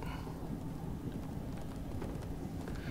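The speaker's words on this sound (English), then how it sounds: "you can hear the thunder rolling off in the background" Low, steady rumble of distant thunder rolling beneath continuous rain in a dark fantasy game landscape, a broad muffled roar filling the background without sharp cracks.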